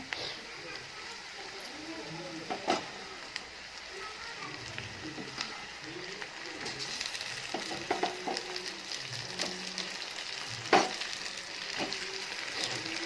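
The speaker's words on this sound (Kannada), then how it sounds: "ಇವಾಗ ಮಸಾಲ ತುಂಬಿರೋ ಬದನೆಕಾಯಿನ ಇದಕ್ಕೆ ಹಾಕೋಣ" Masala-stuffed brinjal sizzles and fries in hot oil in a pan, a steady crackling hiss with occasional sharper pops and stirring clinks throughout.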